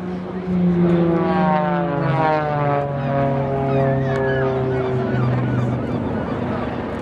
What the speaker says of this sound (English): you can see Blades 2 and 3 flying towards us